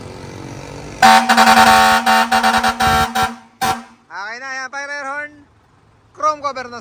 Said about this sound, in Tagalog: Fire air horn.